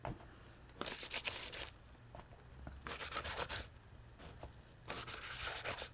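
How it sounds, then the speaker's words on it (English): Excess white paint scraped onto a journal page over deli papers, three bursts of close, dry rasping scrapes with quiet gaps between them, and no talk. "I'm just going to scrape on this excess white paint"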